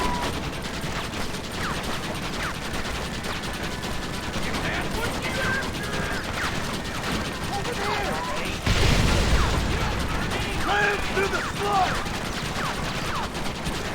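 Gunfire from a Western shootout in Red Dead Redemption, with dense crackling shots and mechanical clatter running throughout and a louder burst near the end, mixed with game sounds and background voices.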